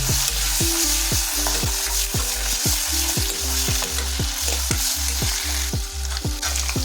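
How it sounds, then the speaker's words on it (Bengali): Fish oil, the fatty parts of fish, fries in a wok over a low flame, a continuous loud sizzle with a repeated scraping rhythm from a ladle stirring, close and steady with no talking. "আর আপনারা মাছের তেল ভাজার সময় সবসময় সাবধানতা অবলম্বন করবেন।"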